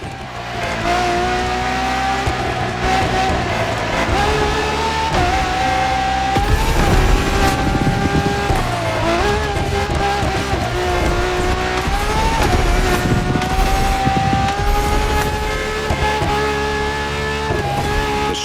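A Ferrari hybrid V12, its strongest naturally aspirated V12, races in The Crew Motorfest, loud high engine tone rising and falling through repeated gear shifts, with tire squeal and skidding across a long continuous run.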